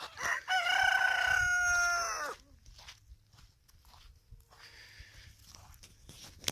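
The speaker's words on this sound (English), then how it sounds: "We can still look at chickens though." Chickens on a small farm during morning chores, a loud burst of crowing and clucking close by for about two seconds, then quieter scattered farmyard sounds and soft movement.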